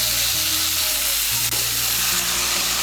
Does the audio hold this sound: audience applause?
no